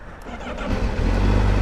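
A Honda CBR1000RR-R Fireblade SP motorcycle with a stock exhaust starts up close by, a brief cranking whir catching into a deep, steady idle rumble.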